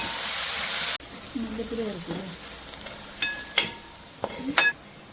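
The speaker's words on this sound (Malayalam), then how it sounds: "ഇത് നല്ലോണം ഫ്രൈ ആയിട്ട് വരണം ഈ സവാള" Onions salted and frying for a Kerala-style pork fry crackle loudly in a pan for about a second. The sizzle then cuts off, and a voice speaks amid light clinks of utensils.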